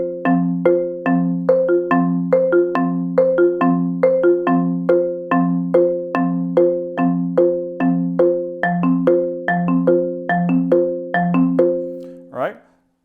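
Marimba plays a steady, even rolling pattern of four-mallet double lateral strokes across a few sustained chords, ringing clearly up close before stopping.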